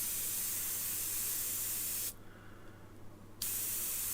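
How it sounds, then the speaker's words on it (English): An airbrush sprays paint in a steady loud hiss, cutting out briefly for about a second before resuming at full force. "Come on, airbrush."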